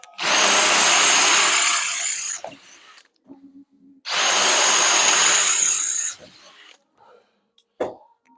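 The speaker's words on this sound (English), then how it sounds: "Right, let's drill this one." A power drill bores into material in two loud, sustained bursts of about two seconds each, separated by a pause. Soft clicks and handling knocks fall between and after the bursts.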